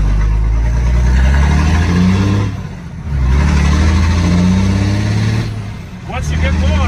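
A 2007 Dodge Ram with a disconnected exhaust pipe revs loudly and rough, its deep engine roar swelling in two long bursts with brief dips between, close and dominant, while someone talks over it.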